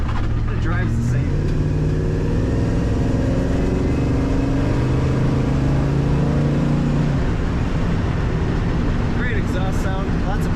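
A 1956 Chevrolet 3100 Stepside street rod pickup with an automatic transmission rumbles through its exhaust, holding a steady deep low drone with rising and falling engine tones, loud and close, with no talking over it.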